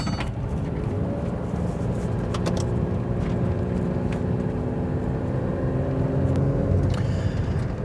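A 1998 Toyota 4Runner drives along, its engine and road rumble steady and close throughout, with a low droning hum and faint rattles and clicks from the cabin.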